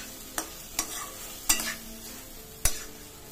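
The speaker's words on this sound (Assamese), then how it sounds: "পটলকেইটা দিওঁ গোটেইখিনি মছলাৰ লগত ভাজি ল'ম।" Pointed gourd fries in spices with a steady low sizzle, broken by four sharp scrapes and clacks of a spatula stirring the pan.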